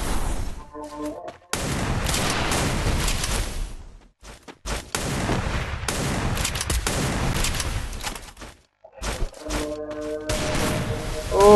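Dense bursts of gunfire from a mobile battle-royale game custom match, loud volleys and rapid shots filling most of the stretch with brief gaps, no speech over them.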